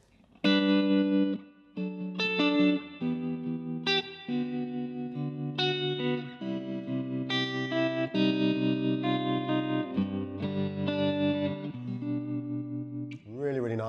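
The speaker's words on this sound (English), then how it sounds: "Let's combine that with a big reverb." Electric guitar played through a Roland Micro Cube GX amp with tremolo and a big reverb, sustained chords and melodic notes ringing out with a pulsing wobble and long wash, played alone.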